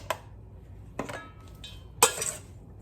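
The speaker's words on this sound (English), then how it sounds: "then I'm going to mix in my spinach" Spinach being mixed into chicken enchilada filling in a bowl, with three separate clinks and scrapes of a utensil against the dish, quiet and close, with short pauses between them.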